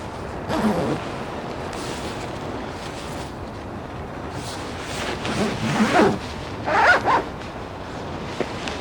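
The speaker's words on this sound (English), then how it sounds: "get that sleeping bag zipped up" A sleeping bag zipper is pulled closed in a winter camping setup, heard in several close, rasping strokes with soft rustling of fabric between pulls.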